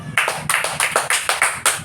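A classroom of children claps in unison during a Filipino lesson, a quick series of sharp, loud group claps in an even rhythm, close by, with no talking.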